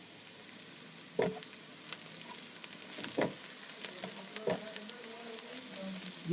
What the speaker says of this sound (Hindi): यहाँ पर प्याज हमारा बहुत अच्छे तरीके से ब्राउन होना शुरू हो गया है